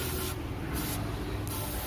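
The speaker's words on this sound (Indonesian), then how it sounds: "kita semprotkan dengan cairan pembersih dulu" Cleaning fluid hisses from a spray can onto the throttle body of a Daihatsu Taruna EFI in one steady, close, loud spray lasting the whole moment, its intensity pulsing slightly.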